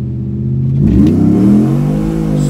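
A car with a 5.7-liter engine and an aftermarket cam revs hard. The loud, rumbling engine note climbs steadily in pitch and holds strong, with no voices over it.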